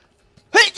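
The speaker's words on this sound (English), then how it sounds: "I'm gonna sneeze." A single sneeze bursts out close to the microphone after a quiet pause, loud and sharp with a brief second gust trailing it.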